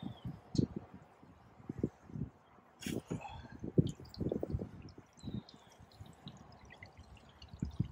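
Gray water drains from an RV holding tank, a faint, irregular trickling and gurgling with soft splashy bursts that comes and goes over several seconds.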